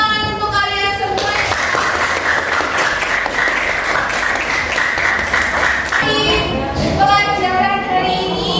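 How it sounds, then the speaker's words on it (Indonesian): Schoolchildren clap together in a science class, a steady burst of applause lasting several seconds, with a voice talking over it at the start and end. "Tepuk tangan untuk kalian semua."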